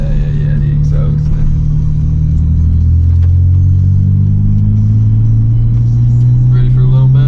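A Nissan 350Z engine revs up with a deep, throaty exhaust rumble, climbing in pitch and holding a loud steady drone close by.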